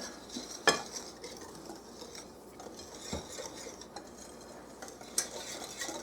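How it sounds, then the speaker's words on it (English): Sugar being mixed into chocolate cake batter in a bowl, with faint scraping and stirring sounds and a few light clinks of a utensil against the bowl, quiet and close with no talking. "We're going to add 2 cups of sugar to this. Mix that in."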